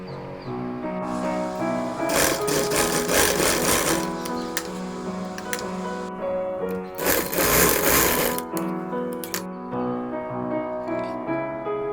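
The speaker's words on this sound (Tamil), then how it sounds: "இது மேலே ஒரு தையல் போட போகிறோம்." A sewing machine stitches pieces of a V-neck petticoat together in two loud, rapid, whirring bursts, with a quieter running hum and faint clicks between and after them.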